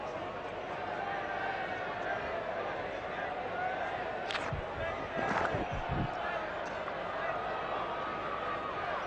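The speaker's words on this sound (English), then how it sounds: "Oh, the crowd are loving it, and so am I." A cricket stadium crowd roars in a steady, dense wash of cheering that holds for several seconds, with a few sharp knocks and a brief swell of noise partway through.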